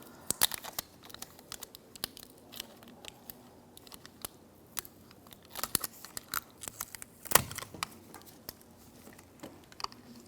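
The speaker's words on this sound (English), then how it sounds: "I'm going to take that tape off." Tape peeled off a connector on the steering wheel position sensor of a 2007-2014 Cadillac Escalade: scattered close crinkling and tearing crackles with sharp little snaps, spread irregularly over the stretch, with no talk.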